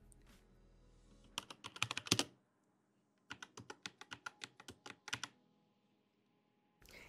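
Keys clatter on a computer keyboard as a command is typed, two quick bursts of close, crisp clicks separated by a pause, with no talking over them.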